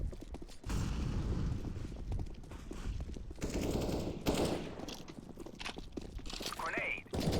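Rapid Tec-9 pistol fire in CS:GO, a pistols-only casual match, rattling in loud dense bursts that run nearly the whole stretch, with short gaps and overlapping game noise.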